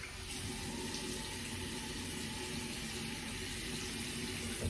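Tap water running into a sink during a shave with a Kai Captain AC shavette: a steady, moderate hiss of flowing water, continuous and close, with no voices.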